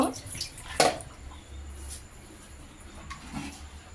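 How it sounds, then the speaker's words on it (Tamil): Roasted lentils, urad dal and moong dal for Diwali murukku, are rinsed in water: a close splash and slosh, then softer trickling and dripping against faint background noise. "பருப்பு வறுத்த பிறகு நல்லா கழுகிட்டு"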